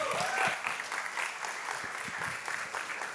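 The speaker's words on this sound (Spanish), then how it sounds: "Un fuerte aplauso" An audience at a 2023 year-end concert in a music centre breaks into warm, sustained applause, a dense wash of many hands that holds steady and then eases off slightly.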